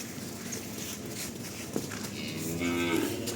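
A calf on a farm moos in a short, clear call toward the end, following low rustling and a faint thump, heard close with no talk over it.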